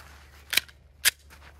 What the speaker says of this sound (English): I loaded it up with 15, so hopefully I can hit them with 15 rounds.